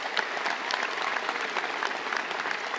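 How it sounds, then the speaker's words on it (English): Graduation ceremony audience applauding in a large hall, a steady wash of many hands clapping at moderate distance, fairly soft and even throughout. "Can I get a round of applause for Jenny?"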